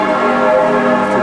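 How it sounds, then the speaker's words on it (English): Church bells ring out in Zurich, Switzerland, a dense, continuous wash of sustained tolling tones from a nearby church with others mixing in, loud and steady with no talking. "This is one of those times of day when all the church bells start ringing for about 15 minutes."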